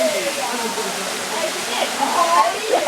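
A secret waterfall on Rarotonga pours as a steady broadband rush throughout, with people chattering and calling out faintly over the water noise.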